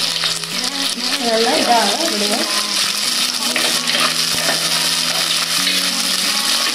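Chopped garlic and green chillies sizzle and fry steadily in hot oil in a pan, cooking for a rock fish garlic curry, with a brief stir and a few words spoken over the crackle.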